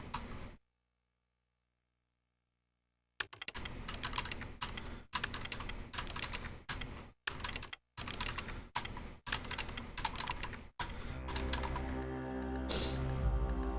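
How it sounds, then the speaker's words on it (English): Rapid keyboard typing from the Parasite Eve video game clacks in dense, rhythmic bursts after an initial silence, with short pauses between runs, then blends into a steady hum near the end. "I have typing to do."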